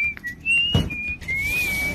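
A person whistles a wavering tune, a sustained melodic line sliding up and down, interrupted briefly by a soft thump in a quiet room.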